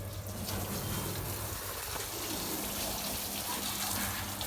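Water steadily sprayed over a car during a wash, a continuous loud rushing hiss with no clear breaks.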